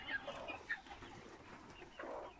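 Domestic chickens cluck softly and intermittently while being handled for weighing indoors near new cages, a few faint close calls over low background noise.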